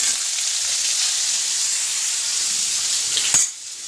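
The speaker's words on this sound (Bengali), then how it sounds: "আলুগুলো লাল করে ভেজে নেব।" Potatoes fry in oil with a loud, steady, close hiss and sizzle that continues throughout and ends with a brief clatter.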